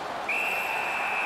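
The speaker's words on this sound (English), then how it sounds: "Makes the stop and holds for the whistle." A referee's whistle in the NHL 19 hockey video game, during a Capitals versus Flyers match, blows as one steady, shrill tone over arena crowd noise and keeps going to the end.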